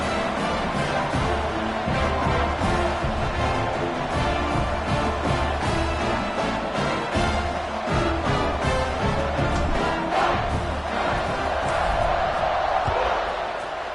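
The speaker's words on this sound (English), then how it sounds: "this crowd is buzzing after that last score" A football stadium crowd roars and buzzes after a touchdown at a college game, a dense continuous wall of distant cheering and noise that holds steady throughout.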